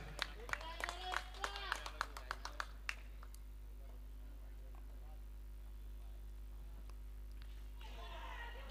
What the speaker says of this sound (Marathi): टाळ्यांचा गजर होतोय प्रेक्षकांच्या